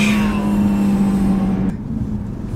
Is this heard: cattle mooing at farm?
no